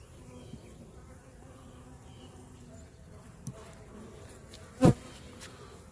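Honeybees on hive frames buzz in a faint, steady hum close by, with a single sharp knock partway through.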